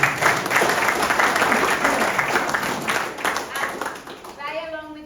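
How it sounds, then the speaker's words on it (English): Applause from the group at a beekeeping workshop on varroa mites in Adelaide, steady clapping for about four seconds, then fading out as voices come in near the end. "Round of applause"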